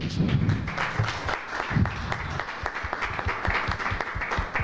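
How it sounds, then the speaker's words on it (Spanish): An audience at a poetry event applauds, a dense patter of many hands clapping steadily for several seconds. "démosle la bienvenida, por favor, con un aplauso"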